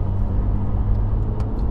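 Porsche GT3 engine and exhaust, a loud steady low rumble heard from inside or close to the car at low revs, continuous and without voices.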